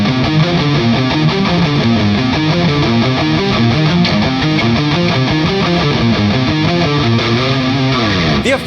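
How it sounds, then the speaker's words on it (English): Sustained guitar chords through a Mooer shimmer reverb effect wash into a lush, ringing reverb with high, airy octave shimmer trailing above, loud and continuous without any talking. "I'm just gonna go straight for the shimmer reverb."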